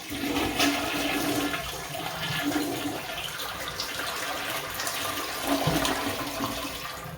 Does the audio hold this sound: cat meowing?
no